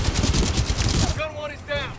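Enemy machine-gun fire in Titanfall 2, a dense rapid stream of loud gunshots that then drops away, leaving a voice speaking over quieter background game sounds.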